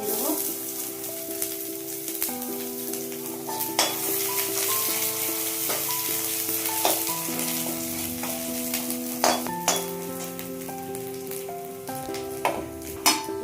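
Chopped garlic and ginger sizzle in hot oil with bay leaf for restaurant-style chilli chicken, a steady frying hiss broken by a spatula stirring and scraping against the pan, with occasional sharp clinks, and no talk.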